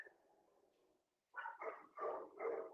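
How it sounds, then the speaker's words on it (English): Dogs bark indoors in a house, first a low whimper, then four quick loud barks in a row, close by. "Sorry, I have dogs."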